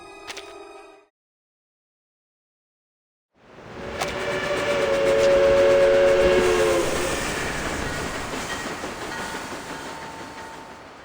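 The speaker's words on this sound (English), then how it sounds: "This is no ordinary train." Train in the video game Reverse: 1999 rolling in after a brief burst of sound and silence, a rising rumble of wheels on rails topped by a sustained whistle blast, loud and close before slowly fading.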